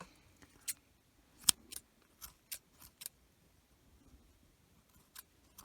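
Scissors snipping a crochet yarn tail on a small snowman project, a series of sharp, separate close clicks spaced unevenly in near silence.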